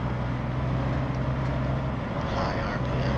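Steady low drone of a truck engine held in a high gear in the RoadCraft driving game, a constant hum with a faint whine above it and no pauses.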